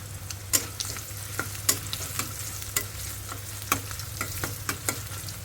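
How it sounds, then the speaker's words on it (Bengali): Green chilies fry in a pan with a steady close sizzle and crackle, broken by scattered sharp pops and scraping stirs, and no voices over it. "আর এখানে হলো মরিচ ভাজা নিচ্ছি আমি তো ভাজা হয়ে গেছে এগুলো তুলে নিই"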